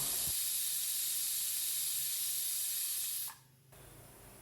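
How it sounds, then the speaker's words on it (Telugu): A pressure cooker on a stove, cooking cluster beans, lets out a loud, steady whistling hiss of escaping steam for about three seconds, then cuts off abruptly, leaving a quiet background. "ఇలా విజిల్ వచ్చేసాయి కదా రెండు విజిల్స్ రానిచ్చానండి"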